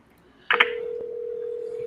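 A single short beep from a telephone keypad during a cold call, followed by a steady, continuous dial-type tone that holds to the end.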